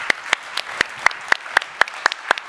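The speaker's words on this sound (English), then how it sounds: "Big applause for Sven for coming." At a Factory of the Future conference session, roughly ten crisp, evenly spaced hand claps ring out close and clear in a quiet room, steady and rhythmic.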